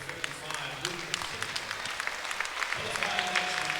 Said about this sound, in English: get a nice big round of applause as he's leaving